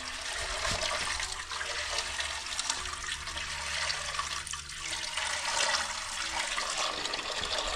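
Water draining out of the engine of a flood-damaged Dodge Charger Hellcat, a continuous moderate trickling and splashing pour that runs steadily throughout, close by, with no speech over it.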